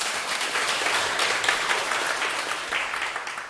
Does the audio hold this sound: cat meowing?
no